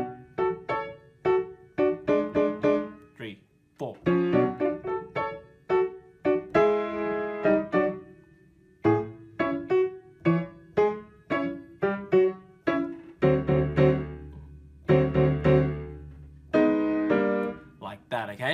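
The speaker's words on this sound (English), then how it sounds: "the whole thing would just sound like this" Solo piano plays a video game theme, a bouncy, catchy melody with staccato chords and a lower bass line joining partway through, steady and clear with no talking over it.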